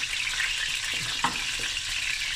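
Fish (snoek) frying in oil in a pan with spices like paprika, black pepper and nigella seeds, a steady close hiss and crackle with a few soft utensil scrapes, no talking.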